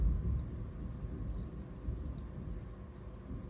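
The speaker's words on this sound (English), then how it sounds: "I'm just listening to this thunder." Low rolling thunder rumbles steadily throughout, a deep continuous roar with no distinct claps, moderately loud and unaccompanied by voices.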